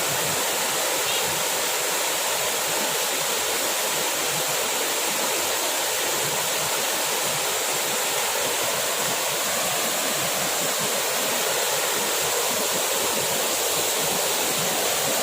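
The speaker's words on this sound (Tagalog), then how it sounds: "Kusog kayo ang bulog sa tubig." A waterfall in a rural village area gives a loud, steady roar of rushing water that fills the space without pause, with no voices or other sounds rising above it.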